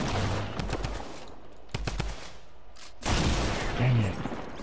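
A drum gun in Fortnite fires in fast rapid bursts, several clusters of sharp shots separated by brief pauses, loud and close, with a voice talking underneath.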